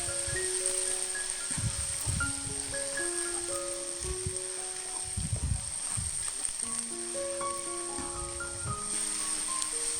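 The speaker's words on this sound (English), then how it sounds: "So our plan is to stir fry the spice paste for 5 minutes." Spice paste for Nyonya chicken curry sizzles in a steady hiss as it is stir-fried, with soft scraping strokes from the spatula, beneath a gentle melodic music bed.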